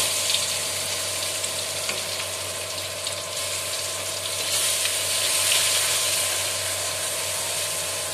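Whole cumin seeds, bay leaf and garlic paste sizzle steadily in hot oil for a chicken curry, a close, continuous crackling hiss with no pauses and no voices.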